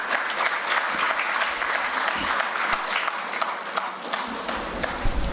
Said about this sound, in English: give each group a round of applause